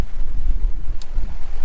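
Steady wind buffeting the microphone aboard a sailboat under sail off the Portuguese coast between Peniche and Lisbon, a continuous low rumble with a brief hiss near the middle and no talk.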